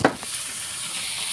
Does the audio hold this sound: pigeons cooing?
no